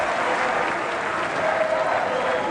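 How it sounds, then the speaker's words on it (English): A tennis crowd cheering and applauding for Jo-Wilfried Tsonga at the 2008 Australian Open final against Novak Djokovic: a dense, sustained wash of clapping and roaring from a large stadium audience. "Listen to this cheer for Joe Wilfried."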